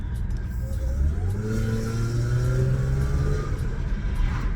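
A car engine drones steadily, its revs rising and then stalling at a flat ceiling instead of climbing further, with road noise underneath.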